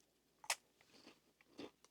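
Dry, slightly stale, low-salt saltine-style crackers from a Mozambique police ration give a few sharp, close crunches as someone bites and chews them in a quiet room.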